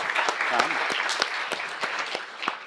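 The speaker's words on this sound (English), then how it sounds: "Let's give them a big round of applause." Scattered clapping from a small audience at a certificate presentation, individual claps audible with a voice talking over them.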